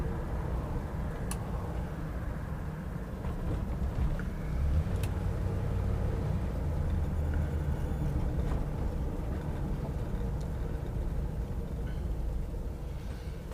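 A 1960 Mercury Park Lane drives along, its engine a steady low drone blended with road and wind noise that holds evenly throughout, with no voices.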